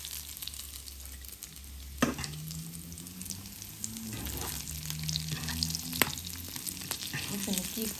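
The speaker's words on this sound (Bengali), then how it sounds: "একটা মশ মিচ্ছা করি মাছটারে ভাজি করে লইছি" Fish fries in oil in a home kitchen: a loud, continuous sizzle with sharp knocks and clatters of a utensil against the pan, and the hiss swelling slightly toward the end, no one speaking.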